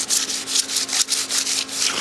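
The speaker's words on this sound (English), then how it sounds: "So what I'm going to do is I'm going to sand these down." Hand sanding scuffs Ford F100 truck parts in steady back-and-forth strokes, a close, rhythmic rasping repeated about eight times with no talk.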